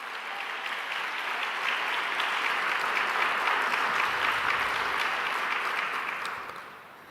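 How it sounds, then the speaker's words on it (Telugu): A church congregation claps loudly in praise of God, a dense sustained wave of applause that swells and holds, then tapers off near the end. "నమ్మితే గట్టిగా చప్పట్లు కొట్టి దేవుని స్తుతి"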